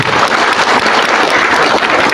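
Steady, loud applause from an audience at a Patriot Garuda Nusantara gathering, a continuous dense clatter of many hands throughout.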